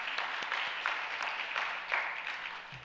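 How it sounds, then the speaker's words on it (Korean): Congregation applause for the pastor during a church service, a steady, moderately loud wash of many hands clapping that continues without a break from start to finish. "우리 좋은 강의 해주신 우리 목사님께 다시 한번 감사의 박수 한번 드리도록 하겠습니다"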